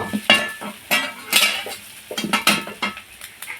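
A spatula scrapes and clinks against a pan as chopped onion, green chili and whole cumin seeds are stirred in oil. The strokes are irregular and close, with a faint sizzle underneath and no voices.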